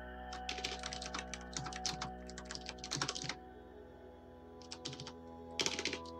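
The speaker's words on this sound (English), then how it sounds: "Listen to my loud keyboard." Close, loud clatter of keys on a computer keyboard in fast bursts of typing separated by short pauses.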